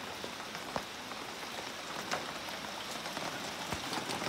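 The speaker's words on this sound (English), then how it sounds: "And we've had a little bit of rain today. I love the rain." Steady rain patters on a surface, with scattered louder drops standing out against a constant hiss, fairly soft and uninterrupted.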